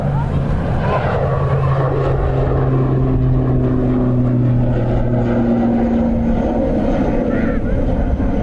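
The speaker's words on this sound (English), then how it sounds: "When they take this right hand turn, you'll see the propellers speed up and then change direction." Propeller airliner at Dublin Airport, a loud continuous engine drone with sustained tonal hums that slowly shift pitch while it turns, heard from nearby outdoors.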